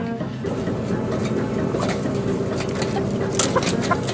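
Hens clucking in a crowded indoor commercial egg facility in Ohio over a steady mechanical hum, with scattered higher calls and rustling throughout.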